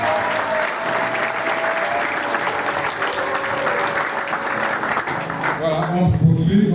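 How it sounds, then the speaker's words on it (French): A congregation claps steadily for a church sister during a consecration service at a church group's anniversary, the applause dense and sustained throughout, with voices mixed in and a rise near the end. "Acclamez pour notre sœur."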